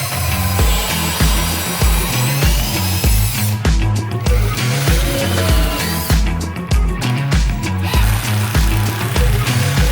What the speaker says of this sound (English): I'm gonna take a larger drill bit, and I'm gonna drill down just a tiny bit